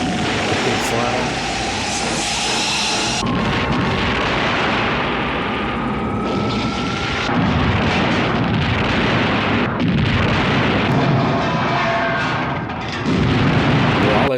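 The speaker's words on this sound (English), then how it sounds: "All this explosion." Explosion scenes from the 1983 film Superman III boom and rumble continuously, heavy blasts layered with roaring debris, under people talking as they watch.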